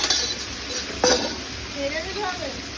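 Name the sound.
potato French fries deep frying in oil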